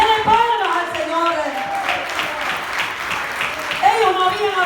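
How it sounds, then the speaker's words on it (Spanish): A church congregation applauds during a sermon, with steady crowd clapping running throughout as a voice carries on over it. "Denle palmas al Señor."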